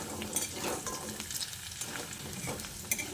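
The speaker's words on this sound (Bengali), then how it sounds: "এদিকে দেখুন কচুটা ঢাকা দিয়ে সুন্দর করে ভেজে নিয়েছি।" Taro (kochu) frying in a pan, a steady close sizzle with soft stirring scrapes and occasional brief clinks, no talking.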